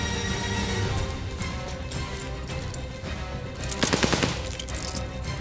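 Automatic fire from an MP40 submachine gun in Call of Duty: Vanguard, a rapid rattling burst near the end that stands out over a busy, noisy battle background.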